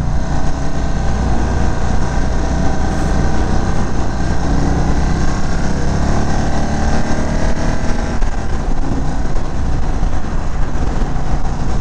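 A 2022 Indian Chief motorcycle accelerating on a canyon ride in Arizona, a loud continuous engine roar mixed with heavy wind rush, steady and close throughout with no pauses.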